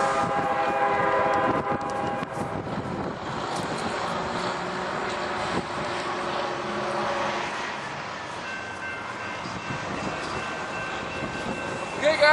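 CSX Q438 freight train heading northbound through Selma, North Carolina, a steady broad rumble with sustained horn-like tones early on, moderately distant and continuous throughout, with people talking in the background.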